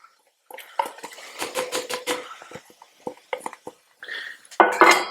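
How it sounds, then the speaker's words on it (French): Metal utensils clatter against a pan in a home kitchen, then chopped shallot hits hot oil with a sudden close sizzle in the last moment. "On va venir faire chauffer une poêle avec de l'huile."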